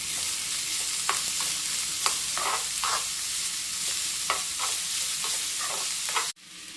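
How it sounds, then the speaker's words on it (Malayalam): Finely chopped onion and curry leaves fry in a hot pan with a steady, close sizzle, broken by regular scraping strokes of a spoon stirring them, until the sound cuts off abruptly near the end. "എന്നിട്ട് ഇതിലേക്ക് നമ്മുടെ സവാള പൊടിയായിട്ട് അരിഞ്ഞു വെച്ചിരിക്കുന്നതും കൂടെ ചേർത്ത് കൊടുക്കും"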